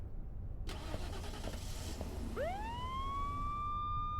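Car engine in a video game cranking and turning over after a sharp click, followed by a rising whine that settles into a steady hum, all close and moderately loud.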